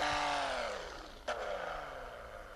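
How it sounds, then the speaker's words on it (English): A steady car engine drone in the video game Racing Rivals, harmonic tones sliding downward as it eases off toward idle, with a brief click midway. "Listen to that engine."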